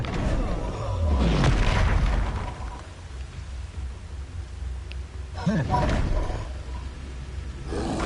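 Expulso explosion spell blasts in Hogwarts Legacy, a deep booming burst followed by a second heavy boom, with rumbling debris and ambient game noise between them.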